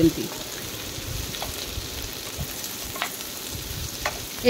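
Chopped onion and capsicum fry in a pan with a steady, soft sizzle, broken by a few sharp clicks of stirring.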